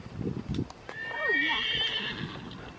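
A horse whinnies loudly and clearly inside a barn, a long wavering neigh in the middle of the clip, with softer low snorts and a few knocks around it.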